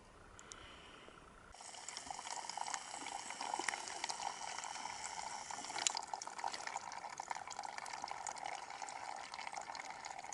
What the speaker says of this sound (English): we're just filtering water